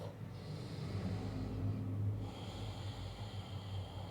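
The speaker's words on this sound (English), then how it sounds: "And 1 more deep breath." A person takes one long, deep breath during a slow core and wrist stretching flow, a soft airy inhale and exhale heard close over a low steady hum.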